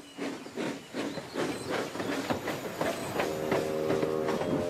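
Steam locomotive in a Trainz railway simulation puffing away, with rhythmic chuffs and a steady hiss of steam, a whistle-like tone rising near the end, loud and close with no voices.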